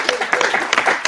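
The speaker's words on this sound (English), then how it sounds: "Let's give a round of applause." Brief burst of audience clapping after a talk at an evening presentation, a close scatter of hands with a cheer and voices over the top, lasting about a second.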